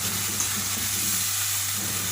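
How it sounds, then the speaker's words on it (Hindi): Masala fried with half a cup of yogurt in a pan sizzles steadily and evenly at close range, with no talking over it. "2-3 मिनट इस मसाले को अच्छी तरह से भून लेंगे"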